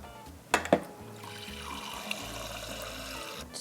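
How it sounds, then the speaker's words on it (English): Liquid poured into a pot on the stove for cooking rice, a short splash and trickle of water after a couple of clinks, then a quiet steady background. "If I have 1 cup, I'm gonna put 2 cups of liquid in here."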